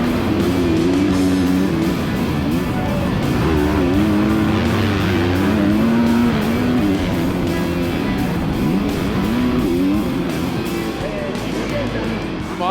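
Kawasaki motocross bikes race in a WMX FIM Motocross World Championship round, engines droning and revving loudly and continuously with pitch rising and falling as riders jostle for the lead.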